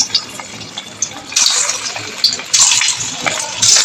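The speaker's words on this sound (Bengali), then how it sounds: "কড়াইয়ে তেল দিয়ে নিয়েছি। এবার আমি এই যে কোপ্তাগুলো ভেজে নেব" Banana flower koftas frying in hot oil in a wok, a loud, steady hiss and crackle that swells in two surges as more koftas go in, close and with no talk.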